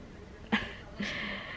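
A single sharp sneeze bursts out, followed moments later by a longer breathy exhale or second nasal burst, fairly close with quiet room noise around.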